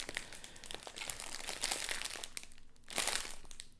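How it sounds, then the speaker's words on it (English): Plastic packaging crinkles and crackles in steady handling bursts during an unboxing of a Meian product, close and fairly loud with a sharper crunchy flurry near the end and no talking. "Sorry for the crinkling."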